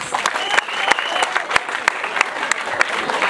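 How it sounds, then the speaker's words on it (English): Schoolgirls and audience clapping for the school management at a menstrual hygiene kit donation, a dense crowd applause with sharp individual claps standing out in a quick irregular rhythm, voices mixed in. "So clap for your school management."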